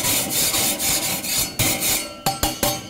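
A metal scraper rasps across a hot grill grate, stripping a burnt-on coating in a run of loud, rhythmic strokes that turn shorter and sharper toward the end.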